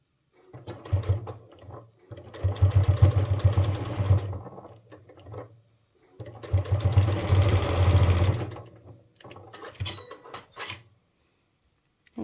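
A sewing machine stitches sling bag fabric in several steady bursts of fast, even mechanical whirring, with short pauses between runs and no voices.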